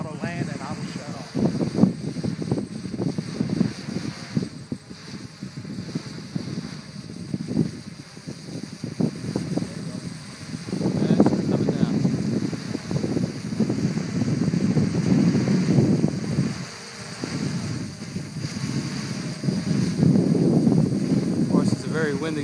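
Gusty wind buffets the microphone in low, rumbling waves over a faint, steady mechanical whine from a DJI 550 multi-rotor drone landing.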